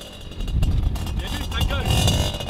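A Derbi 50cc motorbike engine revs up in rising bursts at close range, with people talking over it.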